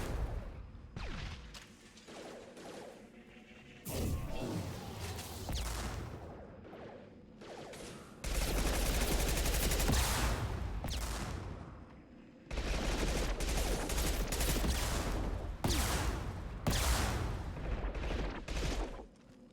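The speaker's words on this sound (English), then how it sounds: "rapid fire weapons like this machine gun work a lot better against shields" Rapid machine-gun bursts in a sci-fi shooter, dense fusillades with brief pauses between long sustained volleys, loud and close with occasional crashes and whooshes.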